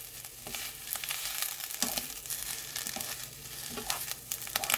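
Fish cake and green onion stir-frying in a pan over medium-low heat, a continuous close sizzle with scraping and stirring clatter throughout.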